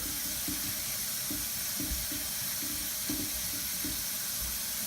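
Water runs steadily with a broad hiss onto a latex seascape on a model of the USS Enterprise CVN-65, joined by low intermittent thumps and splashes as something moves under the stream.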